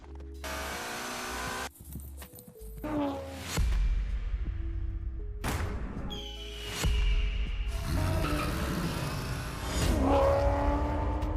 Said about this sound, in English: Did you just notice that that Impala sounded like it had got turbos on it?